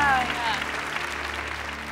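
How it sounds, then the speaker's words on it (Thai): Studio audience applause for a contestant on a Thai code-breaking game show, a brief, steady wash of clapping at moderate level, with some talk and a faint musical tone over its opening. "ขอเสียงปรบมือให้กับคุณบุ้มบุ้มครับ"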